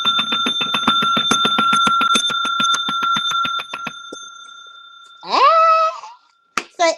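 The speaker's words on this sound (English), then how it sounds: "It's the only time I want you to play the bell." A bell rings in rapid, evenly spaced metallic dings for about four seconds, loud and close, followed by a drawn-out cat-like wail and a brief sharp sound at the end.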